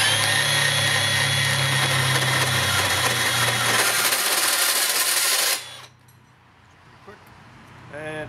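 A Makita 40V XGT PB002G cordless bandsaw runs at speed 3 with a loud, steady whirring blade and motor hum for about five seconds, then stops abruptly, leaving quiet room noise and a faint rising sound at the end.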